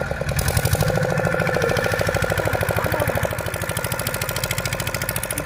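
A boat engine chugs steadily and loudly up close on the way to Pulicat, its rapid regular knocking pulse continuing unbroken with no talk.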